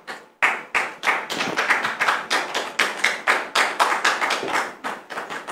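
An audience in a French-language staged talk show greets a guest with applause: a steady run of crisp, evenly paced handclaps, close and moderately loud, with no voices over them.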